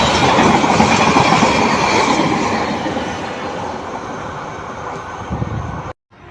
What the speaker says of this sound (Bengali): নতুন যে রেল লাইনটি হয়েছে, ব্রডগেজ রেল লাইন, সেই রেল লাইনের দিয়ে এই গাড়িটি চলে আসছে।